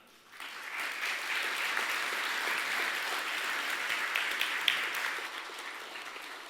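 An audience at the 2025 Samsung Ho-Am Prize award ceremony breaks into steady applause that rises quickly from quiet, then holds as a soft, even wash of many hands clapping in a large hall.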